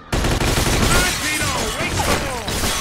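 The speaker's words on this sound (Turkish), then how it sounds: "Biri pompalı sıkıyor ama aha şurada." Shotgun and other gunfire in the video game Mafia II, a loud, dense burst of repeated shots under a chaotic firefight, continuous across the whole stretch with a few sharp reports standing out.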